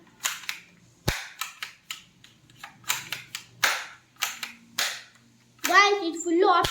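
A fully automatic toy gun fires a series of sharp, loud cracks in uneven bursts, close and punchy, followed at the end by a voice.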